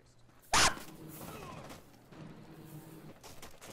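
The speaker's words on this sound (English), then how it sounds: "Oh God, we're getting shot at." A single sharp, loud burst of gunfire cracks out in Rainbow Six Siege, followed by quieter rattling and shuffling.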